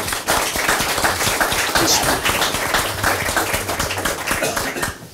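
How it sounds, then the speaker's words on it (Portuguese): Audience applause at a book presentation, steady clapping from many hands filling the room for about five seconds, with a low hum underneath. "Palmas para a Cândida."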